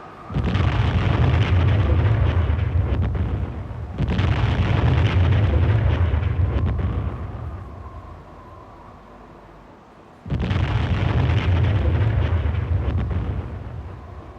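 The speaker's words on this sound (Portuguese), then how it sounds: "Na madrugada do 9 de abril, às 4h15, inicia-se um violento bombardeamento de artilharia" Violent First World War artillery bombardment at La Lys before dawn, heard as sustained roaring barrages of blasts and rumbling explosions, loud and dense, broken by a brief quieter lull before the pounding resumes.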